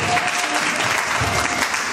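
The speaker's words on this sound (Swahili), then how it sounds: "Pigieni makofi anapokuja" A crowd at a launch event claps steadily as a singer comes up to perform, a brief burst of close, loud, continuous applause.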